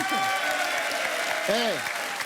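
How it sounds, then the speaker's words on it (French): A French TV dating show's studio audience applauds in a steady wash of clapping throughout, with a voice rising briefly over it near the end. "On vous applaudit."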